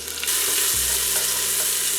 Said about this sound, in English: Garlic is sauteing.